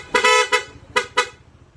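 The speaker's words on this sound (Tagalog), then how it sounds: "magpapalit siya sa PIA horn." PIA-style dual horn fitted to a Honda ADV 160 scooter, switched on through a halo switch, honks in four loud bursts: a long blast followed by three short toots, close and alone with no talk.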